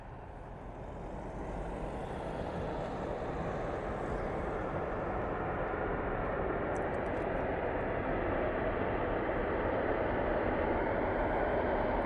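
A Virgin Atlantic Airbus A330 from Atlanta lands on runway 05 right at Manchester Airport, producing a deep, distant rumble of thrust reversers that rises after a quieter start and holds steady, with no talk.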